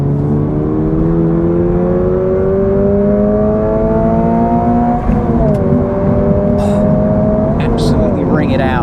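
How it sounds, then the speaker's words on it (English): A 2024 Subaru BRZ tS revs hard through its exhaust while driven on a track, its engine note climbing steadily, dipping briefly at a shift around the midpoint, then rising again, loud and close throughout. "The exhaust sounds okay."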